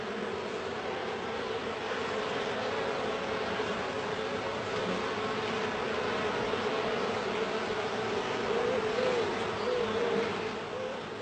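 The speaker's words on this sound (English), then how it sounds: "Bees communicate with each other by means of a dance language." Honeybees inside a hive give a dense, steady buzzing hum that is moderately loud and constant throughout, with no voices.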